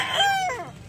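Gamecock rooster from a Raptor crossbreed bloodline gives a single short, close crow with a rising then falling tone, less than a second long.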